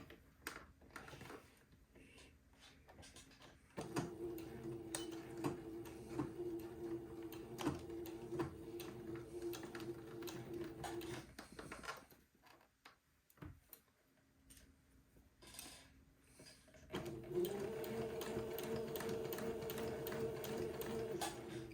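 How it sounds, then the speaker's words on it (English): A home sewing machine runs a straight stitch along a baby garment's neckline, giving two stretches of steady, rapid mechanical whirring and ticking separated by a quiet pause with faint handling noises. "reset my machine to a straight stitch and I'm going to sew along the neckline"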